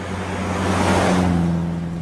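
A car passes close by on a road, its engine hum and tyre noise rising to a loud peak and then easing away over about two seconds.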